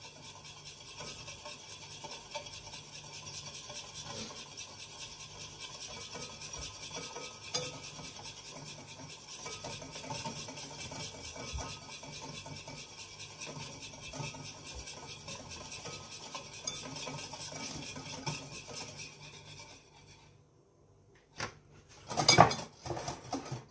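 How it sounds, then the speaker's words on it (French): Mayonnaise whisked by hand with rapeseed oil, a quiet continuous rapid scraping and patter of whisk against bowl that runs for a long stretch, then stops before a few louder knocks and clatters at the end. "vous allez monter votre mayonnaise à l'huile de colza"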